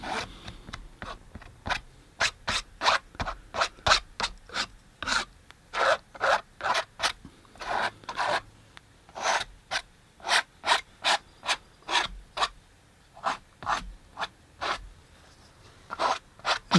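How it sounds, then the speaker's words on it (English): Thick oil paint being scraped off a canvas, a regular series of rough rasping strokes, close and fairly loud, each stroke short and evenly paced with brief pauses, no voices. "scrape off a little bit of really super thick paint that I see"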